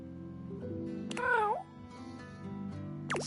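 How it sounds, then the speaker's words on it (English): A small black cat-like creature in the video game Date Everything gives a couple of short, rising meows over steady game music, one clear meow near the start and a quick second one at the end. "A small creature that looks rather like a black cat rubs up against Mateo's leg, meowing for his attention"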